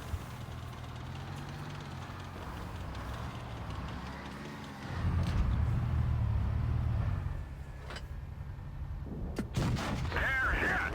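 Tank cannon fire in World of Tanks Blitz during a battle against T49 tanks, heavy booming blasts and rumbling engine noise mixed with game effects, fairly loud.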